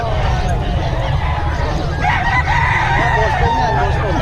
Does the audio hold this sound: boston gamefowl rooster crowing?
yes